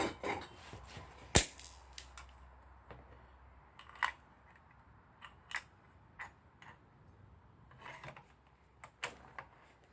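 Distant .308 Winchester rifle shots from a Savage Axis at a shooting range, heard as sharp isolated cracks spaced irregularly over quiet background, one louder and closer report early on.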